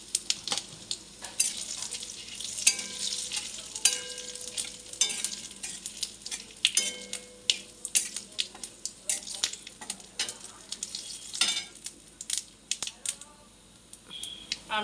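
Cumin seeds sizzling in hot oil with cardamom, cinnamon, bay leaf and a dried chilli, a crackly spitting fry with sharp pops and clicks, fairly quiet and close, with stirring taps against the pan.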